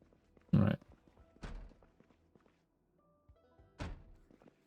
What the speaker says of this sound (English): More thumping.